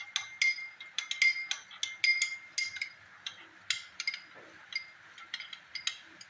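A vegetable salad with sesame is tossed and mixed in a bowl, giving a run of rhythmic bright clinks and clatters from a utensil striking the bowl, close and fairly steady, with no talk.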